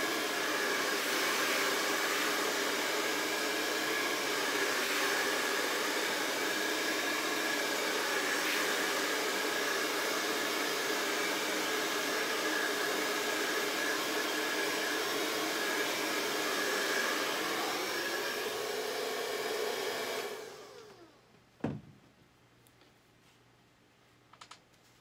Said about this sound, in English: Dryer. It takes no time, but on fabric, I want to take a little more time with it.